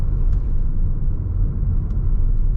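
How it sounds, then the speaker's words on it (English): A 2015 Toyota Auris Hybrid Touring Sports coasting off the throttle under regenerative braking, air conditioning off, gives a steady low cabin rumble of road and tyre noise that holds evenly throughout, with no voices. "So lift off the throttle. Regenerative braking is now charging the battery. We'll turn the aircon off again. Listen."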